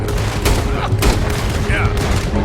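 Rapid bursts of gunfire crack out during a stagecoach robbery in Red Dead Redemption 2, several sharp shots in quick succession over shouting voices and the rumble of the moving coach.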